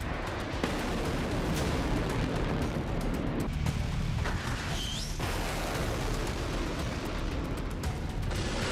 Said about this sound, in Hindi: आसमान में हूती की मिसाइलों को इजराइल की एंटी बैलिस्टिक मिसाइल तबाह करती नजर आई।